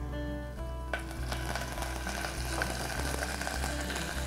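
Cumin, curry leaves and green chilies sizzle in oil for temple-style pulihora, a steady frying hiss with a low electrical hum beneath and light scraping from stirring.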